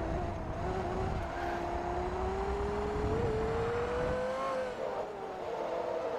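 A Porsche Carrera's engine in the racing game Forza Motorsport 3, a loud, continuous drone climbing slowly in pitch under load, then easing back near the end.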